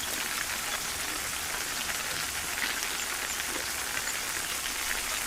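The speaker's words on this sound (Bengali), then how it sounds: "বৃষ্টি হচ্ছে।" Steady rain falls on surfaces, a dense even patter with no voices.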